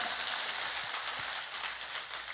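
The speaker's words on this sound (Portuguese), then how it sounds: "Pode bater uma salva de palmas forte" Loud, steady applause from a congregation at a bishop's church service, a dense unbroken wash of clapping that holds at an even level throughout.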